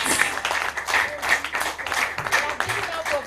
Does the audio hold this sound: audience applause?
yes